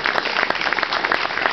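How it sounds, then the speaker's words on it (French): A short burst of audience applause for an honored guest at a French municipal gathering, a dense, even patter of many hands, fairly loud and without speech. "On peut l'applaudir."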